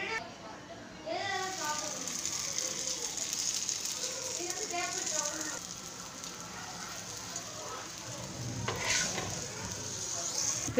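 Naan cooking on a hot dosa griddle gives a soft, steady sizzle with faint crackling and occasional scraping stirs, quiet and close throughout, with a voice talking over it at points.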